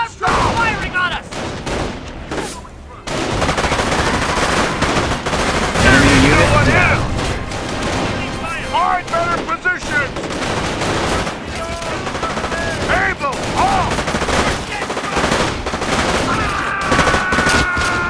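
Gunfire in the World War II strategy game Company of Heroes: Tales of Valor, with dense machine-gun bursts, rattling volleys and booming impacts layered over in-game shouted voices, loud and sustained after a brief lull.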